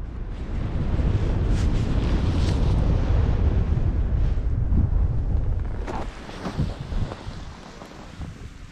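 Strong wind from the west roars across the microphone at a paragliding launch site in Řevničov, a constant low rumble, easing slightly near the end.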